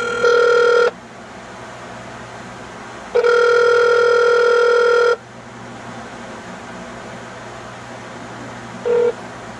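Phone on speakerphone after dialing 611, giving two long ringback tones and the start of a third, steady and electronic with gaps between rings.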